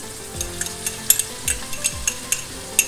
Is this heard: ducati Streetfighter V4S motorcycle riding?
no